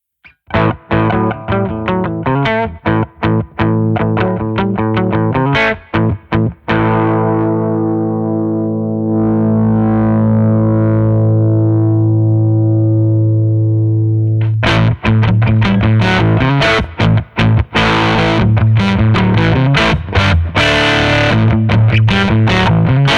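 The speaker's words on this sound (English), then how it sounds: "We got a Germanium boost." An electric guitar runs through a Germanium boost effect into the Mixwave Benson amp plugin with cab and reverb. It plays loud, driven, distorted strummed chords and rhythmic chugs, then a long sustained ringing chord before the choppy riffing resumes.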